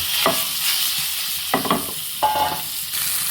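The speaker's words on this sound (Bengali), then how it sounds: "তেল গরম হয়ে গেছে, এখন আমি মাছ দিয়ে দিচ্ছি। মাছটাকে আমি একটু করে লাল করে ভেজে নেব।" Rohu fish pieces coated in turmeric, salt and chili powder frying in hot oil, a steady sizzle broken by a few sharper crackling bursts as the pieces are moved, no talking.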